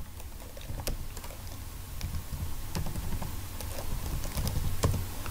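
Python code being typed on a computer keyboard, a steady run of quick, close key clicks with occasional louder taps over a light background hiss, no talking.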